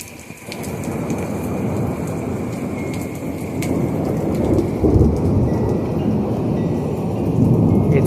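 Heavy rain pours steadily on a house during a thunderstorm, with deep thunder rumbling and swelling underneath, growing louder toward the middle and end; lightning is striking close overhead.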